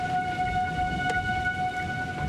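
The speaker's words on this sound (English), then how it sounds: "Sirens blaring, warning residents to get underground as the twister barreled through nearby Wisner" A steady, sustained tornado warning siren wails in the distance with a constant tone over a background of wind-like noise, as an EF-4 tornado passes near Wisner.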